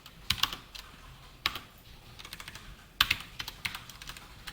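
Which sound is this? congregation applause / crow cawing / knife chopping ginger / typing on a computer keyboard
typing on a computer keyboard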